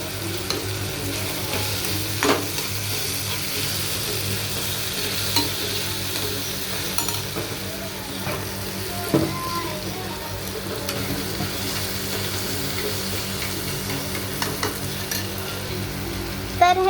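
Onions frying and being stirred in a pan, a steady close sizzle with scraping stirring strokes throughout, no talk over it.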